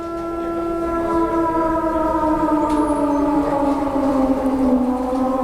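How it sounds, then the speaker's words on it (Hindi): Air raid sirens in northern Israel, a loud steady wailing tone slowly falling in pitch, sustained throughout over a constant background hum, no talk. "इजराइल में सायरन्स की आवाज गूंज रही है।"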